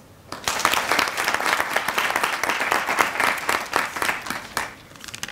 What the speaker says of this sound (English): I would want us to give a round of applause to the special guest, the speaker, Professor Mutambara.